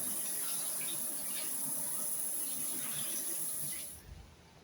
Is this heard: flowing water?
yes